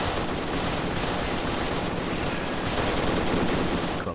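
Enemy machine gunner firing in the WWII game Soldiers: Heroes of World War II, Soviet campaign: a dense, unbroken stream of loud, rapid automatic gunfire that holds steady for the whole stretch.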